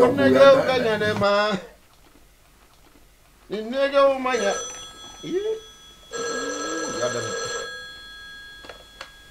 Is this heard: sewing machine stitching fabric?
no